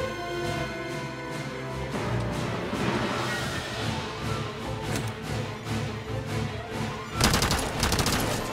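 Gunfire in Resident Evil 4 Remake: repeated shots and rattling bursts fire steadily over a game soundtrack, with a sharper cluster of loud cracks near the end.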